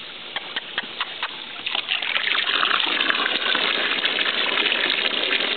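Water gushes and splashes steadily for dogs, including a Duck Tolling Retriever, to drink outdoors. It starts with a few short spurts and then runs as a loud, continuous flow.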